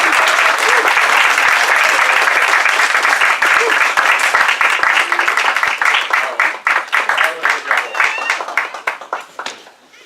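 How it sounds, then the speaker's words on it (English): A large audience at a Toastmasters club meeting claps in a sustained round of applause, dense and steady at first, then thinning into scattered claps as it fades. "With a round of applause, please help me to welcome Jan Roberts as our Toastmaster."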